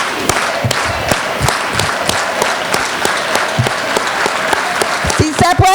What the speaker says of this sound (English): Let's do an organized hand clap because we also have to work together to make it happen.